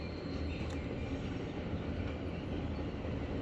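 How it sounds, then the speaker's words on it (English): A train rumbles past near a station, a steady low roar with faint rail clatter and occasional high squeal, heard alone at moderate distance. "hear the train all the time."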